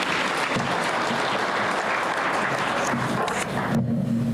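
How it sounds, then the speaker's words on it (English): Steady audience applause at a home design awards event, dense and even for several seconds, with a voice briefly starting to speak over the tail end. "Let's give them a round of applause."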